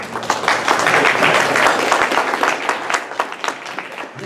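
A room full of Rotary club members bursts into steady, dense applause for past presidents, loud at first and gradually thinning out toward the end.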